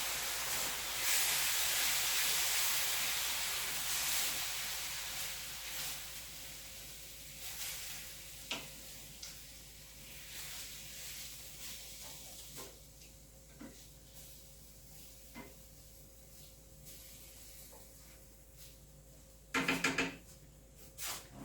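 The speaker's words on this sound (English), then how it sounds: "Now I'm going to let that simmer for about 20 minutes" A tomato mixture for shakshuka simmering in a pan, a steady close hiss and sizzle that is loudest at first and then eases. Occasional clicks and knocks come from the kitchen, with a brief louder clatter near the end.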